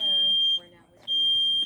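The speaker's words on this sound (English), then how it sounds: "I thought I heard this smoke detector start going off a second." A smoke detector sounds its piercing high beeping alarm at a firefighter academy fire demonstration with a trash can of paper and cardboard, two long loud tones with a short gap between them, as people talk underneath.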